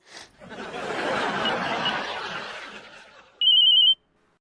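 Noisy chatter and laughter fade, then a single short electronic telephone ring sounds out clearly before silence.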